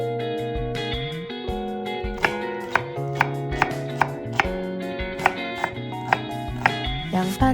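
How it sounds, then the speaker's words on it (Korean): Green onion sliced thinly with a knife on a cutting board, sharp evenly spaced chops about every half second, close and crisp over background music. "먼저 대파를 얇게 썰어주세요."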